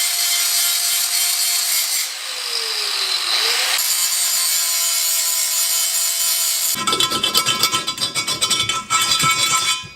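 Handheld grinder working a metal part smooth during a budget turbo LS engine build, a steady high abrasive whine with a dipping pitch, then a rougher, louder, chattering grind in the final seconds; no talking.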